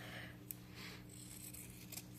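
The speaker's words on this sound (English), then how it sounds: "I'm just going to take scissors or a rotary cutter and cut down that line in the middle." Scissors or a rotary cutter cut through stitched cotton quilt blocks for half-square triangles, giving a few faint, quiet snips and rubs close by with no voices.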